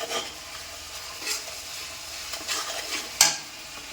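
Catla fish pieces tossed into hot spices in a pan for a home-style Bengali fish curry, giving a steady soft sizzle with scraping stirs and a sharp clink near the end, no voices.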